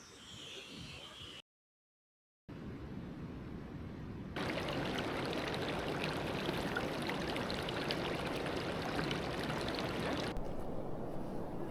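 A large waterfall in the Yorkshire Dales roars as a steady, loud broadband rush of falling water, close by and continuous after a brief gap, with no voices over it.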